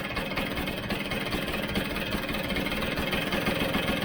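Vespa GS scooter engine idling steadily during carburettor adjustment, a close, continuous buzzing putter with subtle changes in speed.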